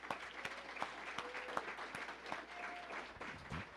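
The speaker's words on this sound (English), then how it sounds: "one more big round of applause for these amazing kids." An audience at an award ceremony applauds young honorees, with steady clapping from a crowd heard at some distance and an even, moderately quiet wash of claps across the whole stretch.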